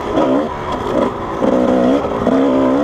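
Kawasaki KDX220 dirt bike launching out of a corner on a new rear tire, its two-stroke engine revving up in repeated rising pulls, loud and close, with no talk over it.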